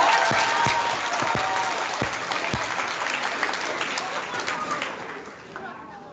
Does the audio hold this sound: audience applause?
yes